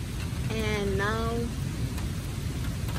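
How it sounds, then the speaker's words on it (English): Rain pouring during a storm with tornado warnings, a steady broadband hiss over low rumble throughout, while a voice speaks briefly near the start. "rain is good. We really needed the rain."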